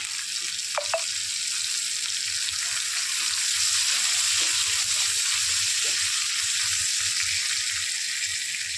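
Raisins frying in a pan while cooking doi potol, giving a steady close sizzle throughout with a couple of faint light clinks near the start.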